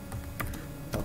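A few soft key clicks from someone typing on a computer keyboard, quiet and brief, in an otherwise still room.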